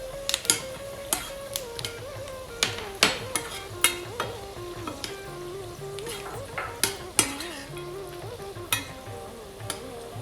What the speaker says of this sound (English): Now let us add the cashew nuts and fry them a bit.